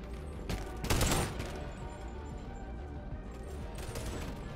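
A quick volley of gunshots cracks out in Boneworks, a VR shooter, with one dense burst near the start and softer shots afterward against a hum of game noise.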